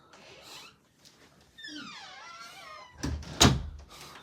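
A door swings open with a creaking squeal followed by a louder knock or thud, heard fairly close in an otherwise quiet room.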